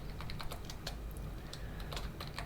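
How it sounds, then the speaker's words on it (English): Password being typed on a computer keyboard during an SSH session on an Ubuntu system: a quick run of light, close key clicks in an uneven rhythm over a low steady hum, with no voices. "and type in my password."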